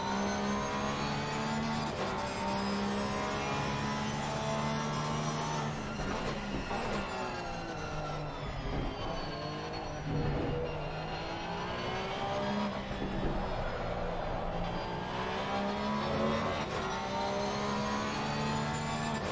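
An onboard race car engine in a racing game at Oulton Park screams steadily through a lap, revving up and down through gear changes and corners with a loud, continuous harmonic whine.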